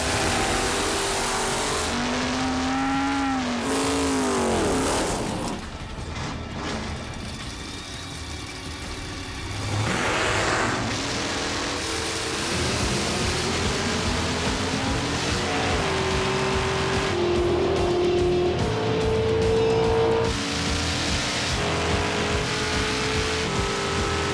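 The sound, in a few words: drag race cars doing a burnout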